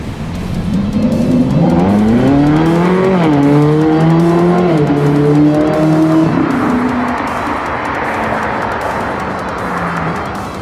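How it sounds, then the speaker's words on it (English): A Ferrari V8 revs hard while driving, its loud exhaust note rising and falling through the gears before easing off into a softer, steadier drone. "That beautiful spitfire that you can expect out of a well-tuned V8."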